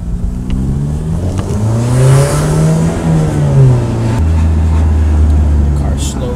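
An Alfa Romeo Stelvio Quadrifoglio engine idles and revs while warming up, its pitch rising and falling in smooth sweeps, loud and close, with a steadier higher idle settling in near the end.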